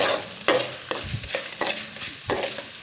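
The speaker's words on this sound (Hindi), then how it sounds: "ये देखिए घी में आपने इसको बस थोड़ा सा ना भूनना है इस तरह से।" Panjiri ingredients being roasted in ghee and stirred, a spoon scraping the pan in repeated strokes about every half second over a soft, steady sizzle, close and with no talking.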